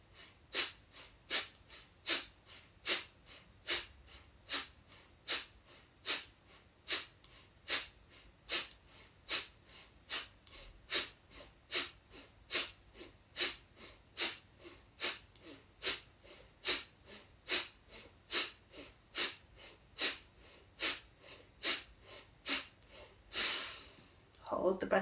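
Rapid pumping breaths during a guided breathing exercise, about thirty forceful, evenly spaced puffs of air in a steady rhythm, close and clear, ending with a longer exhale.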